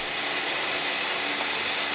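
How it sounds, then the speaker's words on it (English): A steady, loud hissing roar of a vacuum forming machine drawing a heated plastic sheet onto a mould, constant and broadband for the whole stretch, with no pauses or voices. "Then a vacuum draws the sheet onto the mould."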